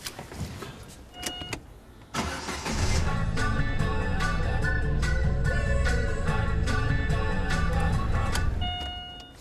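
Car engine cranked and catching, a short starter whir followed by a steady low idling hum that holds loud and close for several seconds, with faint tones over it as the radio comes on.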